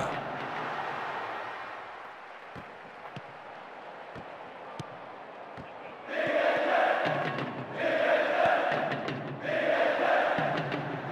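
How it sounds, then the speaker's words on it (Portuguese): Stadium crowd noise from the football video game PES 2010 forms a steady broad roar, then swells into louder rhythmic chanting waves in the second half, with no speech. "Paulo Vinícius Coelho, escuta só esta torcida."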